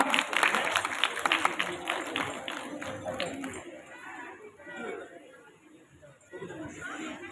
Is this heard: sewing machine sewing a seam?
no